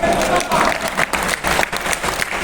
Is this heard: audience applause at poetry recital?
yes